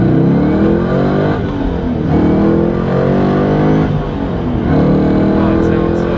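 A Corvette Z06 pulls hard in first gear from a rolling start, its engine and intake roar rising steadily and loudly throughout, with people talking over it inside the car.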